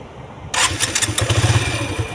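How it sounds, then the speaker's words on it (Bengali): A Suzuki motorcycle engine with a carburettor cranks and catches, then settles into a steady, throbbing idle close by. "গাড়ি কিন্তু স্টার্ট হয়ে গেছে"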